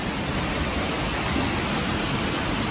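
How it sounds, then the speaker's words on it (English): Dense, constant roar of the Nehan waterfall at Kegon Falls heard from the lower viewing deck, a loud, even wash of falling water with no pauses. "let me show you a little bit more of the Nehan waterfall down there."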